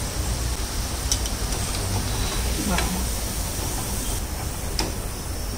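Medu vada frying in hot oil give off a steady, close crackling hiss that runs without a break, with a few faint clicks and pops rising above it.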